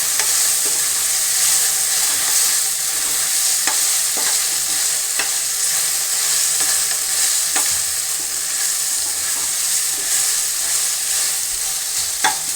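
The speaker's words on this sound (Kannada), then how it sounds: "ಪೇಸ್ಟ್ ಹಾಕಿದ್ಮೇಲೆ ಕೈ ಬಿಡ್ದಂಗೆ ಆಡಿಸ್ಕೊತಾ ಇರಿ, ಇಲ್ಲ ಅಂದರೆ ತಳ ಅಂಟ್ಬಿಡುತ್ತೆ" Country chicken fries in a pan with masala paste, stirred constantly so it won't stick; a loud, steady sizzle runs throughout, broken by regular scrapes and taps of the spoon.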